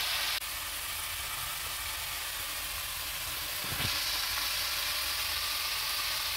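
Chicken frying in a pan after lemon juice and sauce go in, a loud, dense, continuous hissing sizzle with a brief thump partway through, no voices.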